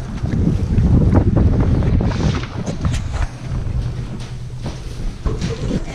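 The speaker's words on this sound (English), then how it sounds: "It's so windy. It's windy." Strong wind buffets the microphone with heavy low rumbling gusts, loudest early on and easing slightly later, with no talking.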